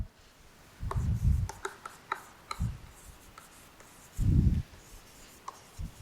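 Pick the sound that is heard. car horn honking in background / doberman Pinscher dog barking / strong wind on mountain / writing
writing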